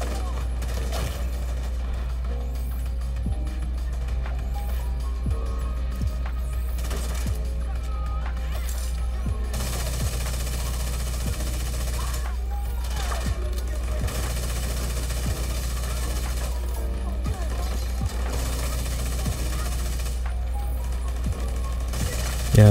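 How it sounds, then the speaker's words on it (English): Shotgun blasts and other gunfire crack out repeatedly in The Division 2, Warlords of New York, over a constant low game drone with scattered mechanical clicks. "that shotgun hurts"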